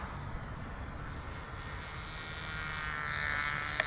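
A Freewing Stinger 90 RC jet runs at full throttle on takeoff in a crosswind. Its steady, fairly distant roar holds throughout and rises slightly toward the end.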